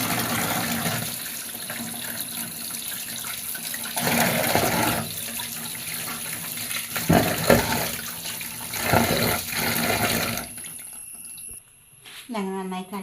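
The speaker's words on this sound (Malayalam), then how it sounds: "നന്നായിട്ടൊന്ന് വൃത്തിയായി കഴുകുക" Chayote being washed under a running tap, with a steady broadband rush of water that swells and dips as the vegetable is handled, then cuts off near the end, leaving brief clinks and drips.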